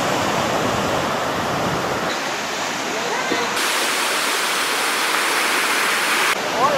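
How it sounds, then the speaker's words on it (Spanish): Steady, broadband sea surf rushes continuously beside a beach pier at Surf City, North Carolina, during Hurricane Florence, a loud, unbroken wash of breaking waves with no pauses. "Y aquí el mar."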